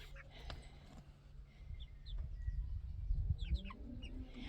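Brown Brahma chickens cluck and chirp in short soft bursts around a farmyard, over a low rumbling background noise.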